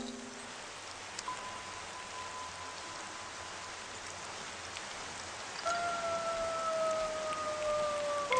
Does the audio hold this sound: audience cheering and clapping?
no